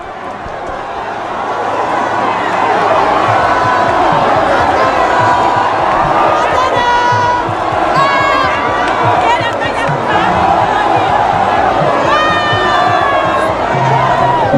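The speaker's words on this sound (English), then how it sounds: "look how the crowd has rampaged the playing pitch in celebration" A large football crowd cheers and shouts continuously as Lofa fans storm the pitch after beating Nimba at the National County Sports Meet; the roar is loud and dense, with whistles and individual yells rising above it.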